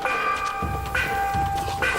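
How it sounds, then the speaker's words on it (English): A church bell tolls in the Assassin's Creed Shadows video game, with several resonant ringing strikes at a steady rhythm over low game ambience and combat noise. "There's another bell."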